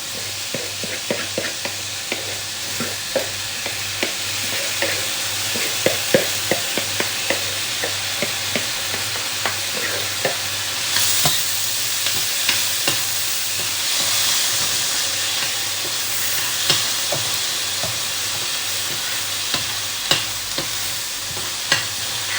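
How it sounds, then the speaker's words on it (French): Rice pours into a hot pan with split peas for vegetable biryani and sizzles steadily while being stirred. Frequent scraping clicks of the spoon sit over a constant frying hiss, with a louder surge of steam partway through. "Et je vais verser le riz."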